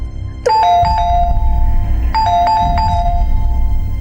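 Doorbell chiming indoors in a home, two separate multi-tone ding-dong rings a couple of seconds apart over a low background hum, no one speaking.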